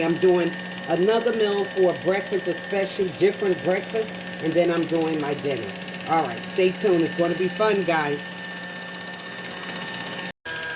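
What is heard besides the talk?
Kitchen Mama kitchen gadget running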